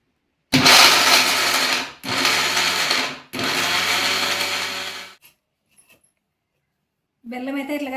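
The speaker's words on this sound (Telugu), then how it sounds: "మనం మిక్సీ పట్టుకునే తర్వాత పప్పుల పొడిలోనే కొంచెం కొంచెం వేసుకొని మిక్సీకి అయితే పట్టుకోవాలి" A kitchen mixer grinder grinds jaggery in three loud whirring bursts separated by short pauses, then falls silent before a fourth burst starts near the end.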